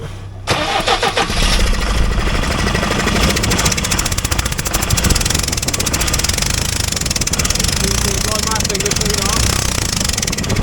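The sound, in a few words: forklift engine being cranked over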